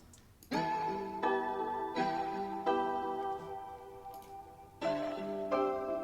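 A bright synth trap melody loops in repeating sustained phrases, loud and clear, with brief pauses between chord-like blocks and no voices.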